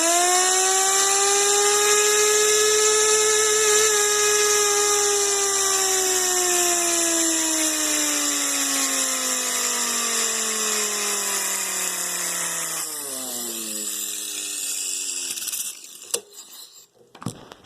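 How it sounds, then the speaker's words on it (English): Used Harbor Freight 6-inch air orbital sander fed by a Ryobi One+ compressor whines loudly and steadily, its pitch sagging slowly as air pressure drops, then sputtering out near the end with a few clicks. "Now this is a Harbor Freight 6-inch orbital sander, so it's been used, so it's not brand new"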